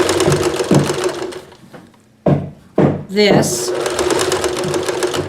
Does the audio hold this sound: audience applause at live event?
no